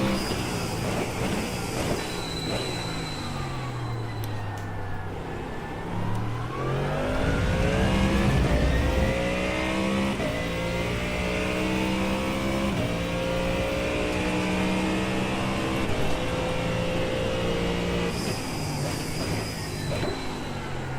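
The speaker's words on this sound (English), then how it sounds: "Garrett, is that engine too loud?" A GT3 race car engine in iRacing drones loudly and continuously, its pitch sweeping down and then climbing through gear changes, with the revs rising and falling throughout.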